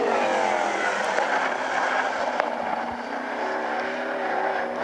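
A winged sprint car on a qualifying lap at a dirt oval roars loudly and steadily, engine note rising and falling through the turn, with crowd and track noise behind it.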